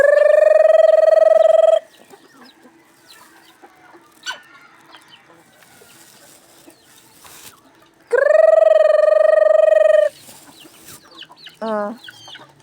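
A flock of about 30 chickens being fed cluck and call loudly in two bursts near the start and after a pause, with scattered softer clucks and rustling in between.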